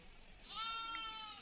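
Sheep and goats bleat in a field by the Krishna river where a shepherd's flock rests, a single drawn-out quavering bleat rising clearly from the middle of the clip over faint background noise.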